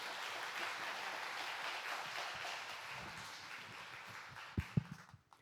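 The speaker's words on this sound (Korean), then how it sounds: "박수로 모시도록 하겠습니다" An audience applauds in a church to welcome a guest speaker, a dense wash of clapping that gradually thins out, ending with a few louder scattered claps and thumps.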